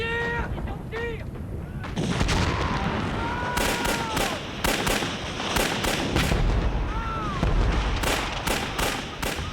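Soldiers fire a volley of gunfire on command, a rapid, ragged burst of many loud, sharp shots crackling one after another, with echoing booms and a shouted voice at the start.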